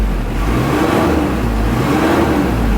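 The turbo diesel engine of a Mitsubishi Delica 4x4 van revs steadily, a loud, close, gruff mid-pitched drone that swells slightly, with turbo whir and no speech.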